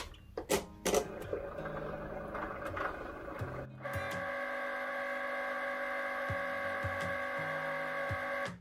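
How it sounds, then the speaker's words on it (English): A Cricut cutting machine switches on with a few clicks and thumps, then settles into a steady mechanical whir with tonal motor hum and occasional soft knocks, close and moderately quiet. "So now I'm just gonna turn on my Cricut machine."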